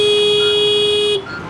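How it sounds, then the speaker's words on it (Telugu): A Simple One electric scooter's turn indicator emits a steady, loud electronic beep tone that holds without a break for over a second and then cuts off abruptly, alone with no talk. "ఆఫ్టర్ మన టర్నింగ్ మనం ఇండికేటర్ ఆఫ్ చేయొచ్చు అనమాట ఈ సౌండ్ విని"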